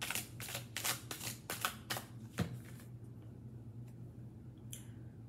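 Tarot cards are shuffled in a quick run of about eight crisp riffling flicks, close and soft, followed by near silence with a faint stray tick.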